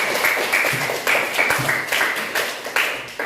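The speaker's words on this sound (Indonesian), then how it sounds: "Tepuk tangan dulu untuk kedua teman kita." A classroom of students gives a short burst of applause for two classmates, brisk uneven claps close by that settle into a rough pulse.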